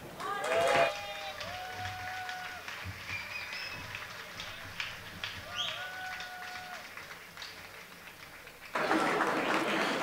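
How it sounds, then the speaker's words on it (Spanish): An audience at a university campus festival gala applauding presenters, with scattered clapping under an amplified announcer's voice, then a sudden loud burst of crowd applause at the end. "recibamos con un fuerte aplauso a los festés del grado de Ingeniería Mecánica"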